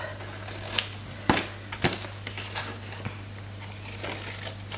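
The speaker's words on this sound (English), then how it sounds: "I love the sound these scissors make," A few sharp, crisp snips of sharp scissors through paper, spaced irregularly, close and clear over a quiet background hum.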